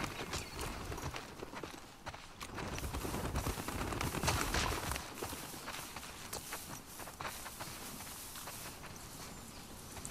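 Horse hooves clip-clop in The Last of Us Part II, a busy run of hoofbeats at moderate volume, mixed with footsteps and other game noise, with no talk over it.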